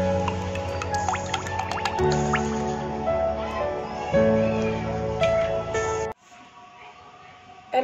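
Oil pours into a kadai for frying luchi, with wet trickling and dripping against a busy kitchen background, then drops away abruptly near the end.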